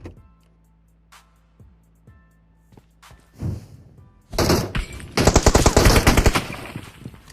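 Gunfire in the mobile battle-royale game PUBG Mobile: a few soft, spaced shots and footstep-like taps give way to sharp single cracks and then loud rapid automatic bursts rattling close by, with no talking.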